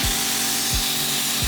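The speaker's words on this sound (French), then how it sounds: "il est en train de passer le Karcher pour nettoyer toute la terrasse, le mur extérieur, etc." A Kärcher pressure washer sprays across an outdoor terrace, a loud continuous hissing rush of water with a steady motor hum beneath and a few brief sweeping pitch drops, no voices.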